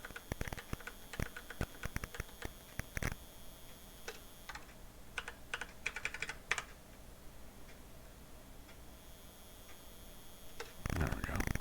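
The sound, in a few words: Geiger counter clicking in Wasteland on the C64, video game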